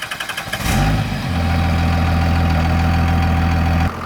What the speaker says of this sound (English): So this is a 1999 24-valve diesel Cummins.